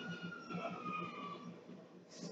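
An ambulance siren in the video game GTA 5 wails faintly at a distance, a sweeping tone under background game noise.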